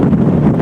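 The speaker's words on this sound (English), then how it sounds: "Oh, here's another gust." A loud, low roar of wind gusting against a sailboat during a tropical storm, buffeting the microphone continuously and close.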